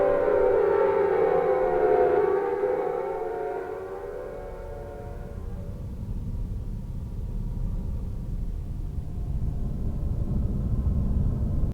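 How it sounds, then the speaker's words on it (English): An air-raid siren in the Silent Hill video game wails loudly and slowly sinks in pitch, fading into a heavy, rumbling low drone that carries on to the end. "the familiar blare of sirens pierces the air, warping reality once again"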